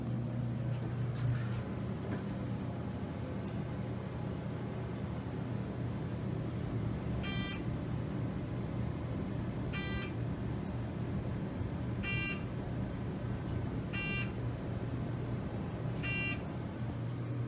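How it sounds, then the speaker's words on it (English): A high electronic elevator buzzer in a traction elevator with a former Otis system beeps in short bursts about every two seconds, five times, over a steady droning mechanical hum. "That is one weird buzzer."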